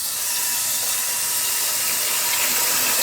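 Cold water runs steadily from a tap over vegetarian beef dough, a constant full hiss and splash with no breaks and no voices.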